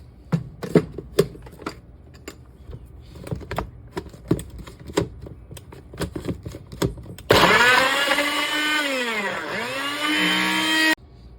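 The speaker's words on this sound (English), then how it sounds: "So we got some of my frozen Bingsu in the blender here." A blender starts up loudly after a series of sharp clicks and taps, its motor whirring and changing pitch as it grinds frozen mango bingsu ice, then cuts off.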